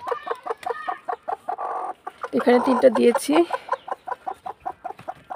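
Hens cluck repeatedly near a nesting spot where eggs are laid, sharp rhythmic clucks with a louder drawn-out bout in the middle, while a person speaks briefly.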